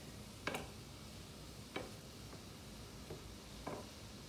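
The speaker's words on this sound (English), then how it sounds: "we're gonna let it cook a little bit because the mushrooms are still raw" Mushrooms, garlic and chili powder cook quietly in a pan for mushroom asparagus tacos, a faint low sizzle broken by a handful of soft utensil taps and scrapes spaced about a second apart.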